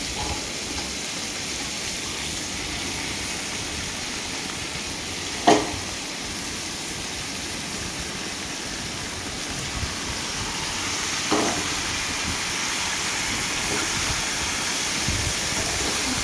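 Steady frying hiss of egg cooked among vegetables in a kadai, a constant sizzle with occasional soft knocks from stirring.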